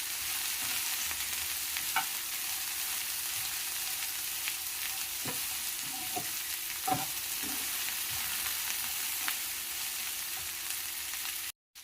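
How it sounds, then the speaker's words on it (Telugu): Sliced okra (bendakaya) frying in oil in a pan gives a steady soft sizzle, with occasional light clicks and scrapes of stirring scattered throughout. "ఫ్రై చేసుకోవాలి."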